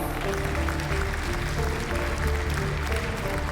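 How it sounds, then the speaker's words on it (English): An audience at an African entrepreneurship awards show applauds a winner, a dense, continuous wash of clapping with background music tones underneath, steady and full for several seconds. "Please give him a big round of applause."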